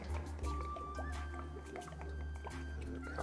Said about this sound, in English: Okay, let's get these watered.